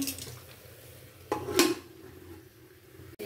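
A spoon scrapes and clanks against a pot while jhinge sabzi is stirred with sugar. A few sharp metallic knocks stand out over a quiet, faintly sizzling background.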